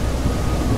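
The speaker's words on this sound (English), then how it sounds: "Just a little rain, it's alright" Rain and thunder in the survival video game If Sun Sets: a dense, loud, low rumble of thunder rolls continuously over steady rainfall, filling the brief moment with no voices.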